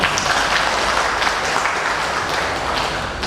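A seated audience at an Islamic study gathering breaks into steady applause, a dense, even wash of many hands clapping at moderate distance with no break, no voices above it.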